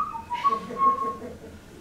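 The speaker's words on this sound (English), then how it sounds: "if I'm sitting here whistling a tune" A person whistles a brief tune, a few clear wavering notes close by with no talk.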